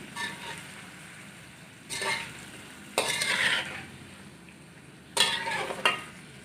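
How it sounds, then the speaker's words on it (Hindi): Onion paste being stirred into white chicken korma in a pot, with several distinct bursts of sizzling and scraping strokes separated by quieter low frying, close by, no one talking. "अब हम प्याज का पेस्ट डालेंगे। 2 बड़े प्याज लिए थे हमने। अच्छे से मिक्स करेंगे।"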